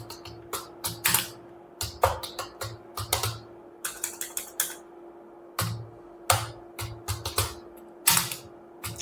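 Fingers type on a computer keyboard in irregular bursts of crisp clicks and taps, with short pauses between words, over a faint steady electrical hum.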